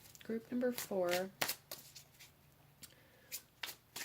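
Tarot cards are shuffled by hand in a series of soft, papery riffles and taps, close and fairly quiet. A voice speaks briefly at the start, and the shuffling goes on in short bursts.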